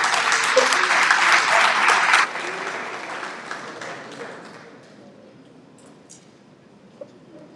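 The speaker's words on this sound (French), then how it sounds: "Merci de l'applaudir, s'il vous plaît." An audience at a World Pharmacists Day event claps loudly for a couple of seconds, then the applause thins and fades to scattered claps and room noise.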